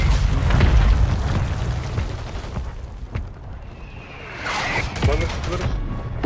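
Mortar strike explosions in the video game Warzone land as heavy, rumbling booms with several sharp cracks, mixed with dense battlefield noise and a brief whistling sweep near the end.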